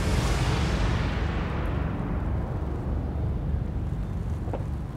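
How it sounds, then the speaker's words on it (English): Fireworks over a city, heard as a dense, continuous rumble of booms and crackling that stays loud throughout, with no talking. "Fireworks in the city."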